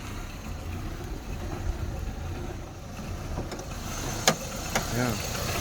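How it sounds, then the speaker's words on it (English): A 1996 Ford Mondeo 1.6 petrol 16-valve engine running rough: a steady low idling rumble, with a couple of sharp clicks near the end. "The engine doesn't sound too good."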